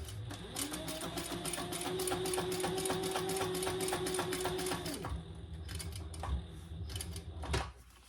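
A sewing machine runs fast and steadily, top stitching a strap anchor on a retro-style sling, then slows into short, stop-start bursts of stitching near the end.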